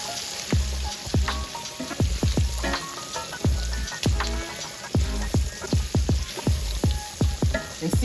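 Sausage and peppers sizzle steadily in a skillet while a utensil stirs and scrapes them, giving repeated sharp clinks and thumps over the continuous frying hiss, close and fairly loud.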